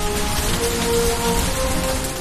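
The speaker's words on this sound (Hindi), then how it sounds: "जमकर बारिश हो रही है।" Heavy rain with hail pours down in Delhi during a winter storm, a dense, loud, unbroken patter and hiss hitting surfaces with no pauses.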